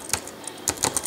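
Several quick keystrokes on the keyboard of an Acer Iconia W4 tablet, tapped in two short bursts with a pause between, close and crisp in a quiet room.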